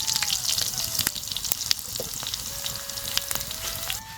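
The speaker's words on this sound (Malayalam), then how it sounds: "ലേശം ചെറിയുള്ളി ഇട്ട് കൊടുക്കാം" Shallots and mustard seeds sizzle steadily in hot oil close by, with sharp pops and crackles scattered throughout and a faint steady hum underneath.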